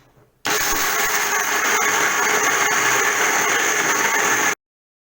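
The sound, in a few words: blender grinding almonds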